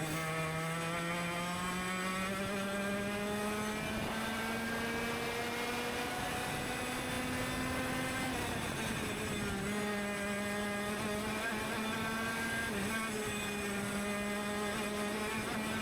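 A TKM retro racing kart engine buzzes continuously around the Hooton Park track, a high, raspy two-stroke note holding steady, dipping briefly mid-run and climbing again, heard from onboard without talk.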